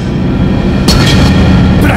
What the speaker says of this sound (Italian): Il massimo colpo della costellazione dei gemelli! Esplosione galattica!